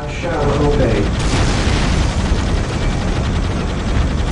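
Tanks firing in the video game Dawn of War: Dark Crusade, dense booming blasts and rattling gunfire filling the clip loudly, with a voice briefly heard at the start.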